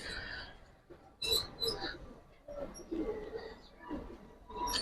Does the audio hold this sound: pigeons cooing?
yes